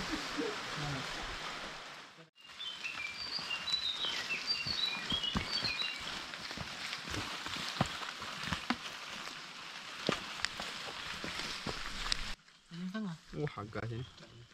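Steady rain patters across a mountain trail on a Kerinci hike, a dense wash of noise that holds for about ten seconds before cutting to quieter sounds with a voice.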